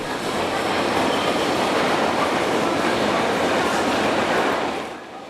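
A subway train on the deep Pyongyang metro roars past with a steady, dense rumble and a wash of wheel noise. It holds loud and even, then begins to fade at the end.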